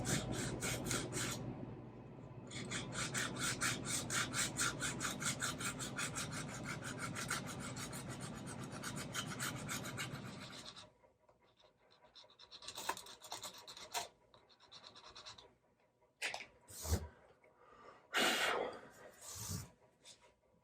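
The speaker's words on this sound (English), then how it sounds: "go across the frets this direction with some various grits of sandpaper to just really smooth" Sandpaper in various grits rubs back and forth across the frets of a 1997 Fender Stratocaster in rapid, rhythmic rasping strokes for about ten seconds, then a few scattered scrapes and handling noises follow.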